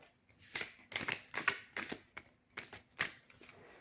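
Gaia oracle cards being handled and drawn from the deck, a series of about nine crisp papery flicks and snaps in an even rhythm, close and fairly quiet, alone without talk.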